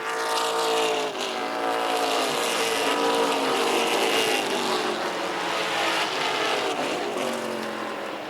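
Several race cars roar around a track, engines droning loudly and continuously with shifting pitch as they jostle for position in the pack, steady and dense throughout.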